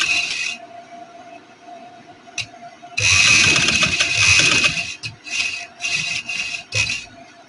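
Sewing machine stitching right along the edge of a kameez neck near the piping, running in a sustained close burst after a faint stretch, then in several short separate runs with pauses between.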